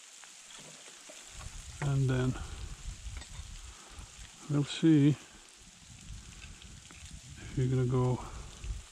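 Steady rain falls outdoors during a hunt, a continuous soft hiss of drops on surfaces throughout, with someone speaking in short bursts over it.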